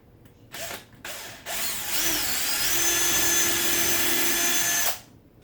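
A power drill bores holes into a wooden nightstand top, running in a short burst, pausing, then whirring steadily for about three seconds before stopping, close and loud with no talk.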